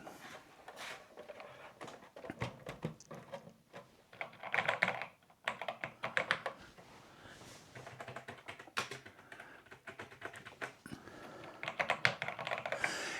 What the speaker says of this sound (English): the keyboard on the C64 doesn't feel bad